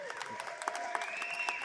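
Audience applause for a fighter at a cage fight event, a brief burst of steady clapping and crowd noise with a voice talking over it.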